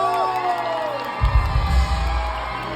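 A crowd at a Thai band show cheers and claps to welcome a performer. Sustained musical tones fade early, then loud, rumbling whoops and shouts burst in and carry on.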